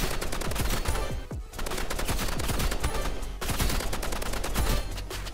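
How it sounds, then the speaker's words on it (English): Gunfire in the Roblox game Rivals: rapid, loud automatic bursts of shots in fast continuous volleys, broken by one or two brief pauses. "Oh, he's shooting."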